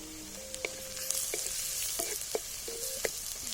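Chopped onions with a pinch of turmeric sizzle and fry in a hot pan for a chicken dish, a steady close crackle punctuated by scraping clicks of a spatula stirring, without any voices.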